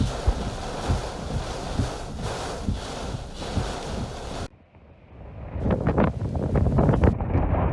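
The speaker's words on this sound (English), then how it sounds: "The winds are still blowing, but it's much different than it was just 10 minutes ago." Strong, steady wind roars across the microphone after Hurricane Nicholas in Surfside, briefly drops away, then gusts back in even harder, buffeting loudly with no speech.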